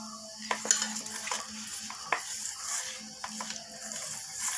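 Chhana being kneaded with flour by hand, soft close squishing and pressing with light clicks of contact, irregular and quiet, no talk.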